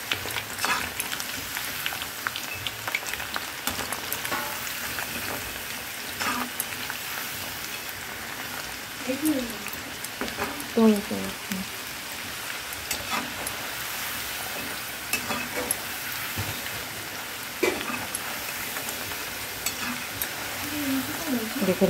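French fries deep frying in hot oil, a dense continuous sizzle and crackle with occasional stirring clatter, steady and fairly close, without clear speech.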